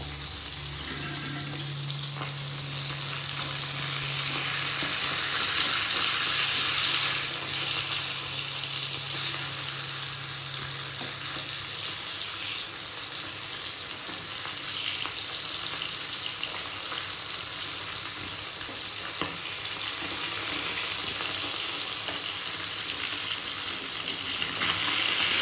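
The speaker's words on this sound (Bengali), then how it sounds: "মাছ ভাজা হচ্ছে" Fish fries in a pan with a loud, steady, hissing sizzle that runs unbroken throughout, close by, and no one speaks.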